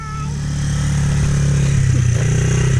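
A dirt bike engine running close by, holding a loud, steady droning rumble with slight rhythmic pulsing and no clear revving.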